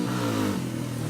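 A motorcycle pulls away close by, its engine droning loudly and steadily, with the pitch dropping and shifting partway through as it rides off.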